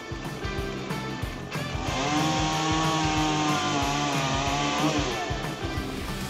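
A large chainsaw cuts into a tree, its engine starting rough and uneven, then climbing into a loud sustained high whine under load before dropping back to a sputtering idle, all close up.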